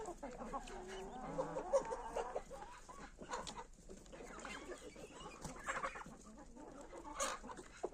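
Poultry clucking and chattering at a moderate distance, several birds overlapping in a busy farmyard with steady background noise.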